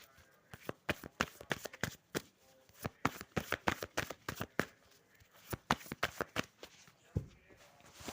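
Tarot cards shuffled and drawn from a deck at close range, a fast run of crisp riffling slaps and taps in uneven bursts, with a short pause near the end.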